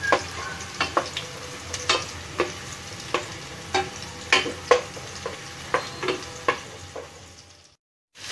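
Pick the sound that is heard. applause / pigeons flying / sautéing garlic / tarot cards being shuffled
sautéing garlic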